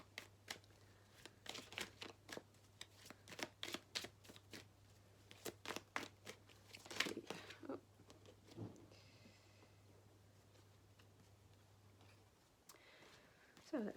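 Tarot cards being shuffled during a psychic reading, a rapid run of crisp riffling clicks and snaps in bursts over several seconds, close and fairly quiet, with a low steady hum beneath and no talking.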